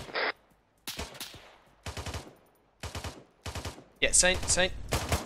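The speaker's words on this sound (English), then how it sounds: "someone is close by and I cannot see where they're firing at us from" Gunfire in the military shooter Arma 3 rings out in short, sharp automatic bursts of four or five, spaced apart. A brief spoken exchange joins the final loud burst.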